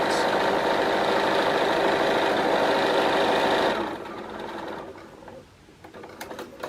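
A sewing machine runs in a steady, fast mechanical hum through fabric for nearly four seconds, then stops, leaving quiet room noise with a few faint clicks.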